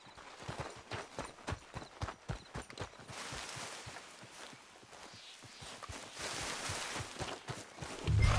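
Horse hooves clip-clopping at a steady walking pace in the Red Dead Redemption 2 video game, a rhythmic series of close, distinct hoofbeats over light outdoor ambience, growing louder toward the end.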